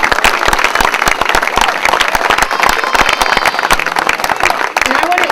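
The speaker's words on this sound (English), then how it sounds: "give you guys, all of yourselves, a round of applause for all the work that you did today" A crowd of volunteers claps in sustained, dense applause at an outdoor community event for a Boys & Girls Club, steady and loud for the whole stretch with a few voices mixed in.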